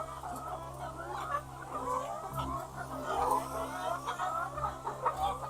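Several chickens cluck continuously nearby during hot summer weather, a busy overlapping chatter of short calls at a moderate level with no clear speech.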